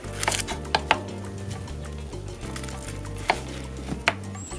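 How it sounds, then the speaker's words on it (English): Red onions being chopped for a salad, sharp knife strikes landing on a board in an irregular rhythm, a few louder cuts standing out over a steady low background hum. "And what I'm cutting right now, red onions."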